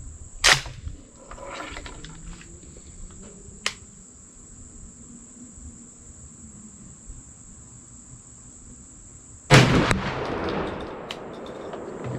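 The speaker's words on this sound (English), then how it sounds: "Gonna be shooting another shot with this number 2 steel, 7/8 ounce load." A 20 gauge shotgun loaded with number 2 steel, 7/8 ounce shot and fitted with a Carlsons Cremator choke fires at a 35-yard target outdoors: sharp loud blasts near the start and near the end over steady cricket chirping.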